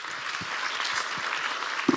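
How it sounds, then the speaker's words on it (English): An audience at a climate journalism panel claps as a new speaker takes over, a brief, moderately loud patter of many hands continuing steadily. "I haven't even started yet and I'm getting a clap"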